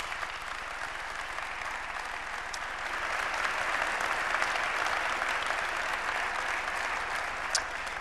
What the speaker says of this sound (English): could we please give them a round of applause?